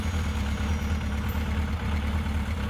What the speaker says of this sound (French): Alors, la moto rentre dans le garage.